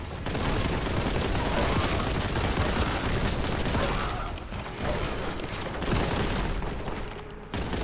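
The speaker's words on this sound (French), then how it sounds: "petite grenade." A grenade going off in a 1990s-style Warhammer 40,000 shooter: a dense roar of blast and gunfire continues loud and unbroken, briefly thinning before surging again.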